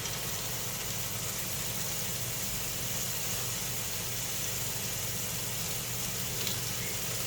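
Frozen onions sizzle and fry steadily in a Ninja cooker, the camera right beside the pot, producing a loud, continuous hiss with no pauses and no talking.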